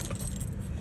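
A key turning in the fuel cap lock on the right side of a Lada Niva, a brief metallic jangle and click over a low steady background rumble.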